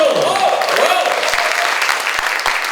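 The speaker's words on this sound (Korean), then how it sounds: "여러분 다시 한번 좀 환영의 박수 한번 부탁드립니다" A studio audience on a Korean talk show claps to welcome a guest, a steady, fairly loud patter of applause heard over a talking voice at the start, then continuing evenly with a few sharper claps.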